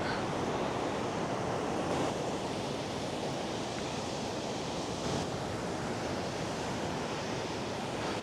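Ocean surf breaks steadily on a beach in a continuous, loud wash of roaring water, with wind buffeting the microphone while walking along the shore.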